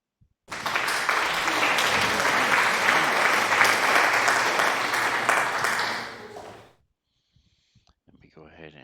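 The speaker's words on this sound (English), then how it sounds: "Get a little round of applause in the chat" Dense, sustained clapping rings out for about six seconds, then cuts off abruptly into near silence.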